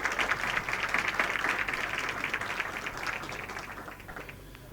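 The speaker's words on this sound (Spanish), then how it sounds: "aplauso." An audience at a conference hall session on a biodiversity index and multifunctional landscapes claps in a dense, steady round of applause that gradually thins and fades over a few seconds.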